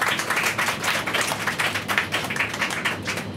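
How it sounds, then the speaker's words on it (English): Passengers on a bus break into clapping together, a dense, steady patter of many hands that stays fairly even and close for a few seconds. "Everyone on the bus clapped"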